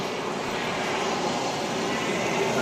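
A Beechcraft 200 air ambulance plane taxis along the runway at Wellington Airport, its turboprop engines giving a steady, continuous broadband roar at moderate distance with no break throughout.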